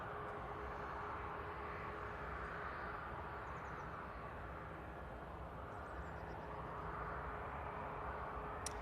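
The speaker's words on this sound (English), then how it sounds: "here comes the Emirates with an extended arrival" An Emirates airliner arrives at Manchester Airport, its engine roar a broad, faint, sustained rush that swells and shifts in tone as the aircraft passes at a distance.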